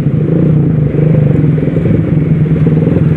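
A Honda Revo motorcycle fitted with a loud open exhaust idles close by, its steady, throaty burble with a crackling, clattering edge holding continuously throughout.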